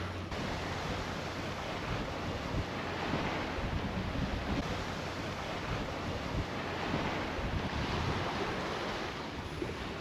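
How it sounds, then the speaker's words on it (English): A Hallberg Rassy 44 sailing yacht runs downwind off Brest, France, with a steady broad rush of wind and waves washing against the hull, a constant close roar with gentle swells in loudness and no voices. "Downwind sailing, leaving Brest, France."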